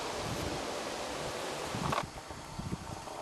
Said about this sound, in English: Hopefully you can hear me above the wind.